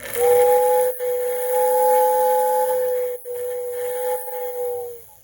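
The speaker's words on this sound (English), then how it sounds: "I even got an O-gauge horn or whistle that I put on here, just so it's nice and loud." A loud, steady two-tone O-gauge model train whistle sounds in one long blast, briefly interrupted by a few short breaks, with faint hiss underneath.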